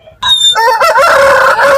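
A rooster crows loudly and close by at the Monday livestock market in Kunnathur, Tirupur; the bird has a split tail and a dark beak, and one sustained, wavering crow fills the moment with no talking.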